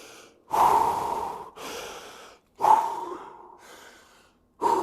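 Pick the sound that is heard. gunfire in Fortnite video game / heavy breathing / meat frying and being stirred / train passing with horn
heavy breathing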